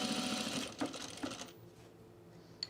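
A sewing machine stitches men's cargo shorts in a short, quiet run of rapid whirring with a couple of faint knocks, then falls silent apart from a small click near the end.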